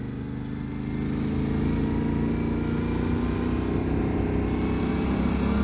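A 2019 Yamaha Tenere 700 motorcycle engine drones steadily while riding, a continuous low, even hum with a faint whine on top, moderately loud and unbroken throughout with no speech.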